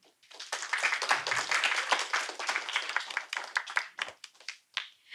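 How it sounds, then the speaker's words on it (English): A poetry evening audience applauds the poets, a burst of hand clapping that swells quickly, holds, then thins out into scattered claps near the end. "let's give a big round of applause to all the poets and encourage them with a loud cheer"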